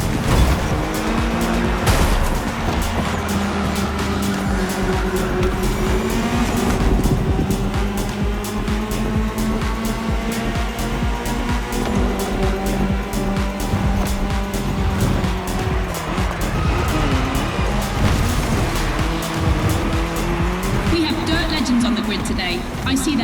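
Rally race cars, including an Audi S1 EKS RX Quattro, tear around a course in the video game The Crew Motorfest, with engines revving, tyres squealing and skidding under near-constant commentary.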